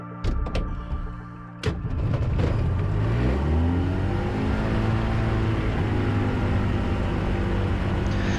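An Avid Flyer light aircraft's cold engine coughs and sputters a few times, then catches and revs to around 3,000 RPM in a loud, steady, close drone.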